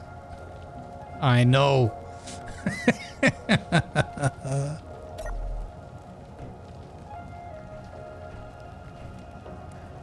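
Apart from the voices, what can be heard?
hailstorm weather in Space Engineers video game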